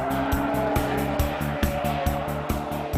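A modified VW Beetle with its engine boosted to 2.2 liters and 165 horsepower drives past close and loud, with a dense, pulsing engine roar and regular rhythmic thumps running throughout, and no talking.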